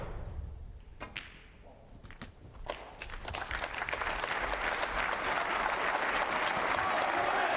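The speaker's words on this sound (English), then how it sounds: "and the crowd roar" A snooker crowd bursts into applause for a maximum 147 break, scattered claps at first swelling into sustained loud clapping and cheering that fills the hall.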